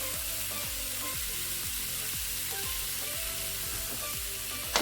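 Spices fry steadily in a pan over a low flame, giving a continuous close sizzle broken by regular scraping stirs, with no voices.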